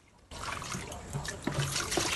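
Water poured to rinse stones for a home fish tank, starting abruptly as a close splashing, trickling pour that runs on with small gurgles.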